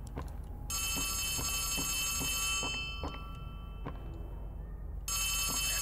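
A telephone rings in the horror video game Poppy Playtime, its bright electronic trill sounding in two long bursts over a low hum, with faint footsteps thudding in between.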